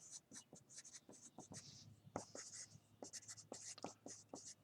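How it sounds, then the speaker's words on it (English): A definition is handwritten on paper, with scratchy pen or pencil strokes in short bursts and pauses, close and quiet, alongside faint breathy vocal sounds. "I should probably write this out"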